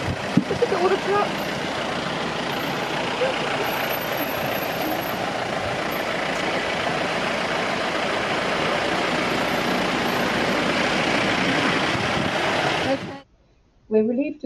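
Heavy road traffic roars steadily past on a road near elephants in Sri Lanka's Minneriya park, a loud continuous rumble of trucks and engines under voices that cuts off abruptly near the end.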